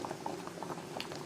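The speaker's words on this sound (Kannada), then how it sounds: "ಗ್ರೈಂಡ್ ಮಾಡಿದ ಮಸಾಲೆಯನ್ನು ಗ್ಯಾಸ್ನಲ್ಲಿಟ್ಟುಕೊಂಡು ಕುದಿಸ್ಕೊಳ್ತಾ ಇದ್ದೇನೆ" Ground masala for a Tulunadu-style raw mango rasam comes to a boil in a pot on a gas stove, giving close, soft, steady bubbling with small pops throughout.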